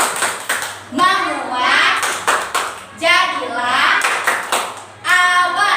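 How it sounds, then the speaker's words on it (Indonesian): Children chant a rain-themed clapping game in an early-childhood classroom about rain, with rhythmic hand claps and pats under their sung voices, repeating in short phrases. "Kita tepuk hujan dulu yuk"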